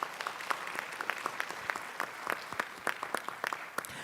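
An audience at a board of education meeting claps for spelling bee judges and coordinators, a brisk, moderately loud round of applause from a modest crowd, with no talking.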